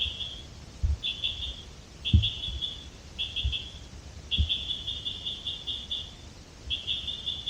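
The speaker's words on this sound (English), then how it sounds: "Birds and frogs." Birds and frogs call in a forest at Bankhead National Forest during hammock camping. Short repeated high chirping trills sound at a moderate distance over a steady insect-like hiss, with a few low soft thumps nearby.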